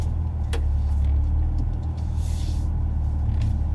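A 2011 BMW 328i engine idles with a steady, loud low rumble that stays constant throughout, with a few faint clicks and a soft hiss over the hum.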